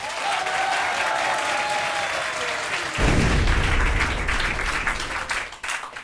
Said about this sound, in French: Je vous demande d'applaudir via Grand Paris.